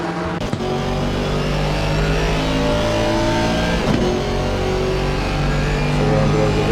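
BMW and Aston Martin GT4 race cars in a racing game at Donington roar continuously, their engines droning and revving at high, sustained volume with slight pitch shifts, heard close with no talking.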